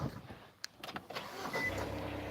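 Muffled interior of a parked car, with a few soft clicks and thumps and a brief whirring motor like a power window, settling into a low steady hum.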